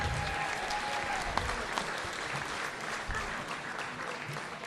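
Audience clapping at an urban awards ceremony, a dense, even round of applause from a crowd that holds steady throughout.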